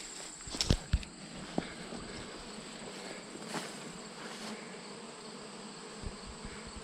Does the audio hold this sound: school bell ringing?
no